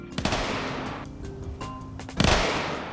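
Gunfire in Skyrim modded with Fallout weapons, two sharp loud shots with echoing tails, one near the start and one near the end, with game ambience and mechanical whirs between them.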